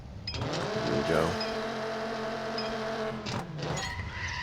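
A racing car's engine revs hard past its limit in NFS No Limits, a loud straining whine that rises and holds, with a brief scrape and shifting tones over a few seconds.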